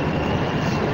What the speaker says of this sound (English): This is a Manhattan-bound 5 train.